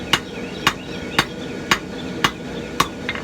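A hammer strikes a blacksmith's knife blade while its taper is forged, ringing out six sharp metallic blows at an even, unhurried rhythm close by.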